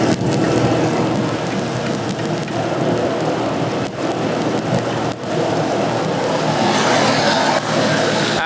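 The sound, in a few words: heavy rain with storm during motorcycle race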